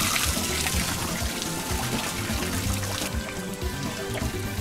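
River water scooped up by a water wheel pours back into the river, a steady close splashing and trickling flow with no talk over it.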